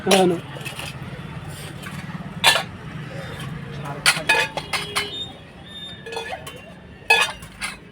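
Small cooking pots clinking together, several sharp metallic clinks and taps scattered irregularly over a low background hum, close by.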